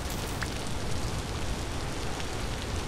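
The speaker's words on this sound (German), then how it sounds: "Der Regen dauert schon ganz schön lange an" Steady rain in the survival game Vintage Story during a prolonged storm, a dense, even hiss of falling drops with no breaks and no voices.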